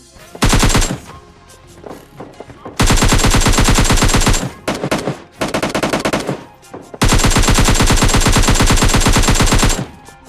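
Rapid automatic gunfire in PUBG Mobile Lite, knocking down and finishing enemy players during a rooftop and house fight; loud, dense bursts of several seconds each with short gaps between, alone without talk.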